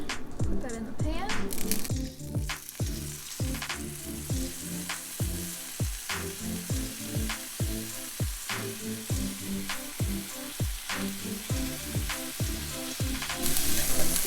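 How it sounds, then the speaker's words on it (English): Filet mignon steaks searing in an oiled pan, a loud sizzle burst at first settling into continuous frying with a regular series of tapping, clicking knocks throughout. "So we have our steaks, filet mignon. Put that in the pan."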